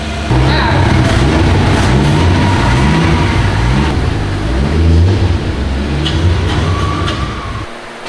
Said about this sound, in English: The exhaust is really low in this car.